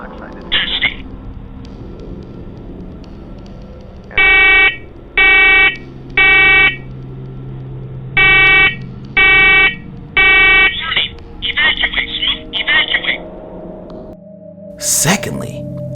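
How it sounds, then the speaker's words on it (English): A combined smoke and carbon monoxide detector in a basement sounds repeated loud electronic beeps in groups of three, with pauses, over a low hum and faint background noise. "this is a smoke detector and carbon monoxide detector"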